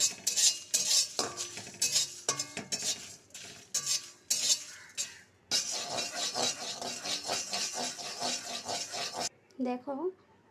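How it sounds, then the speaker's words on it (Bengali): Spices for a hog plum pickle are fried and stirred in a pan, with repeated scraping and clinking of a metal spatula over a light sizzle, ending in a brief stretch of talk. "দেখো সমস্ত জিনিসগুলো কিন্তু ভালো করে ভেজে নিচ্ছি হালকা হালকা"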